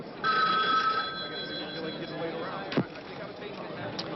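A 1970s telephone bell rings briefly near the start as a thin electronic trill, followed by a low background hum and a single sharp knock, with no voices.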